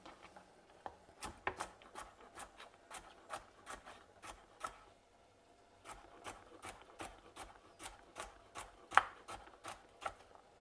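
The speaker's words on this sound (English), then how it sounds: "just going to peel and chop up 4 carrots" A knife chops peeled carrots into small cubes on a board, with steady, crisp, evenly spaced cuts close by, a brief pause midway before the rhythm resumes, no voices.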